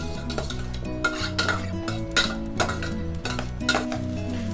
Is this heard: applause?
no